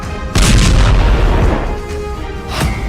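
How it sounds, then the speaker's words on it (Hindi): A heavy explosion from an Israeli strike near Damascus, Syria, booms suddenly and loudly, then its rumble slowly fades, with a second fainter thud near the end. "धमाके का तीसरा वीडियो"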